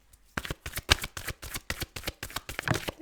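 Tarot cards being shuffled in quick, crisp riffling bursts, a dense run of papery flutters and soft taps close by, with no voices.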